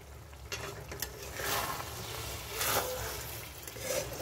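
Tangra fish chachari being stirred in a frying pan over a low flame, giving a continuous oily sizzle broken by a few scraping strokes, close and fairly loud.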